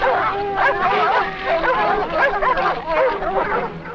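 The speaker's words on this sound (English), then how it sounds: "The dog's constant barking is annoying the cat." A pack of hunting dogs bays and yips at a cornered jaguar, steady overlapping barks and whimpers in quick succession, fairly close and continuous.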